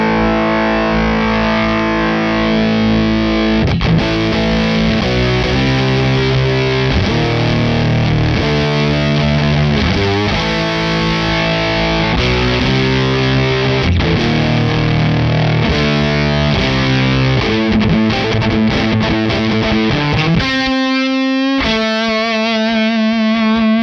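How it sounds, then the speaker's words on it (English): Electric guitar played through a Jacques Mercer Box distortion pedal with its love control turned up produces thick, saturated chords and riffs over a long sustained stretch, ending on ringing, held notes. "listen to what happens when you increase the love control."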